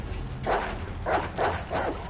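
Dogs in a Resident Evil game bark in four evenly spaced, loud yelping bursts over a low rumbling game background.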